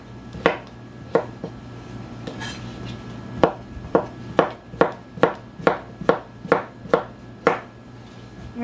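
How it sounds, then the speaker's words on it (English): Knife chopping through squash on a cutting board for canning, about a dozen sharp, close thuds, sparse at first then falling into a quick steady rhythm, with no talk. "Now if it's small, you just cut it in half."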